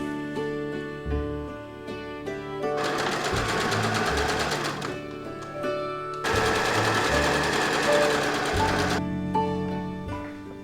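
A sewing machine stitches the back edge of a fabric garment in two long, loud, steady runs, with brief pauses and handling clicks between them.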